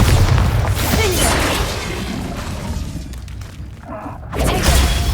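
Spell blasts from Incendio and Bombarda cast in the video game Hogwarts Legacy, a run of loud booming bursts with crackling debris, dense and close, easing off midway before a final heavy burst.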